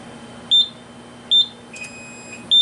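A Simplex fire alarm panel emits short, high-pitched electronic beeps, three evenly spaced pulses with a brief fainter tone between them, close and clear over a low background hum.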